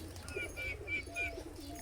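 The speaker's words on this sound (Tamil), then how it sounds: "பந்தய புறாக்களில் 5 பட்டாவை நம்ம இன்றைக்கி மேலே ஏற்றி விட்ருக்கோம்" Racing pigeons out on their first day of training flights give a few soft, repeated coos and calls at moderate distance over steady outdoor background noise.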